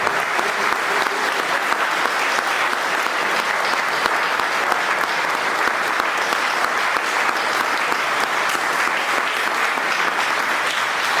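A church congregation at an Assembly of God anniversary service applauds together, a loud, steady, unbroken roar of clapping that lasts several seconds with no voice on top.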